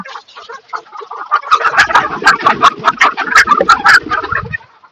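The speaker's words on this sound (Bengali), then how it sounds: "ফার্মি মুরগির একটাই সমস্যা এরা প্রচুর ডাকাডাকি আর লাফালাফি করে" Farm chickens cluck and call, starting with a few soft notes, then breaking into a loud, busy run of overlapping squawks and clucks at close range that fades near the end.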